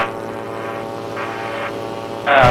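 A Buccaneer II aircraft engine runs steadily at about 6,000 RPM in flight, a constant propeller drone with a slight pulsing swell and a louder burst at the very end.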